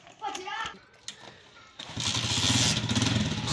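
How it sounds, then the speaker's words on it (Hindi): Brief voices give way to a motorcycle engine that starts up and drones loudly and steadily as cousins ride out toward a nearby park in a village setting. "मेरे कज़न और हम बाइक पे निकल गए हैं"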